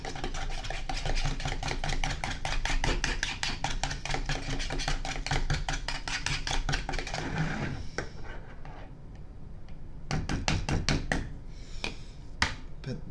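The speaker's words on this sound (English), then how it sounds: "I'm gonna go ahead and mix the egg white and milk mixture." Egg white and oat milk whisked in a bowl, a rapid run of sharp rhythmic clicks and taps that pauses briefly near the end, then resumes in a shorter burst; no voices.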